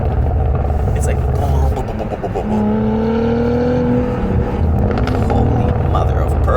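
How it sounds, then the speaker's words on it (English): A 2023/24 Cadillac CT4-V Blackwing's exhaust roars loudly under hard acceleration, its engine note climbing through rising pitch sweeps with a deep rumble, while a person talks over it inside the car. "Now the exhaust goes and doesn't stop until you either go back on the gas or whatever"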